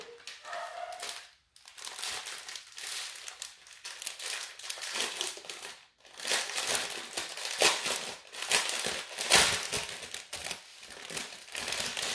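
Plastic packaging of a diamond painting kit from a Shein unboxing being opened, with continuous close crinkling and rustling in irregular bursts, one brief pause early and another midway.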